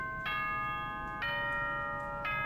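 Danganronpa: Trigger Happy Havoc announcement chime rings three times at steady one-second intervals, a clear, sustained bell-like ding-dong tone over a low background hum, with no talk.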